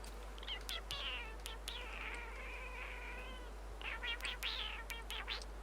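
A kitten gives a series of drawn-out, high meows, two long cries separated by a brief pause, close and clear over a steady low hum, with faint clicks and rustles around them.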